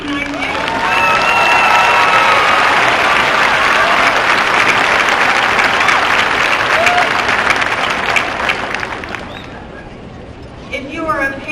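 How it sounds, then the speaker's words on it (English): Large crowd applauding alumni at a university fall commencement ceremony, a sustained loud wash of clapping with scattered cheers that fades near the end, with voices heard around it. "If you are an ECU alumni, let us applaud you."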